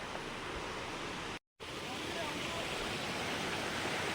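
Water streams down from a hill, a steady broadband rushing wash heard close and continuous, with a brief dropout early on.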